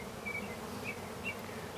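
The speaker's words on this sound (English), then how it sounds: "lots of bees. You see a few drones scattered around." Honey bees hum in a steady, dense buzz inside an open nuc hive, a continuous close drone with a few brighter whining passes from individual bees, with no voices.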